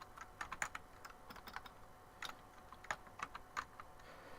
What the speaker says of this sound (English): I'm typing on the current keyboard.